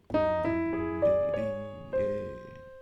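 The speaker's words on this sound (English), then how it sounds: "let me play for you once again the naked version of micro variation number 1" Solo piano playing a short jazz melody variation, single notes and chords struck one after another with ringing sustain, close and clear, no voices.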